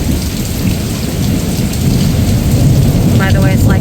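A loud afternoon thunderstorm rumbles on with heavy rain pouring steadily and a tree blowing in the wind, the thunder swelling toward the end, with no one speaking.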